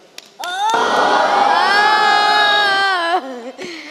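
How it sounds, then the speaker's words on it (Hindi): Audience with many children at a kids' television segment lets out a loud, sustained unison cheer lasting a few seconds, then breaks off into scattered voices. "आप तालियां बजा दें मेरे लिए"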